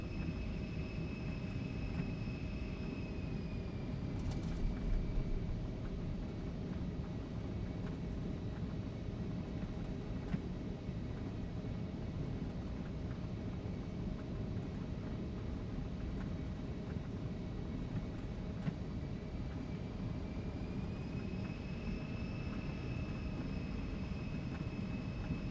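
Embraer E175 jet taking off in the X-Plane 12 flight simulator, a steady broadband engine roar with a faint high whine, even and sustained at moderate level throughout.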